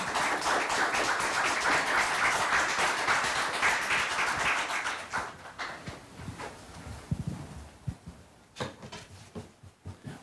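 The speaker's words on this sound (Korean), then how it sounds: "큰 박수로 맞아주시기 바랍니다." An audience at a lecture forum applauds to welcome the lecturer, dense and loud clapping for about five seconds before thinning into scattered claps and fading out.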